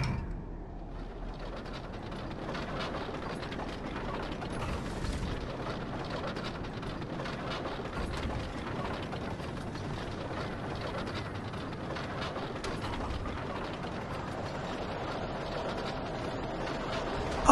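A brake mechanism being released in Alan Wake Remastered: a continuous grinding, ratcheting clatter of gears, steady and fairly faint, running for the whole stretch with no clear pauses.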